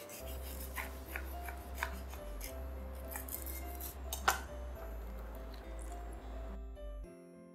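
A grilled masala egg sandwich is sliced with a knife on a board, giving a few soft crunchy cuts and light scraping over a steady low hum, with no one talking.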